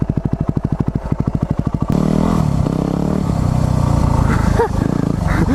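Motorbike rolling and revving over super loose gravel, starting with a rapid pulsing engine idle then shifting to a steady loud engine roar with crunching and clattering of stones beneath the tyres.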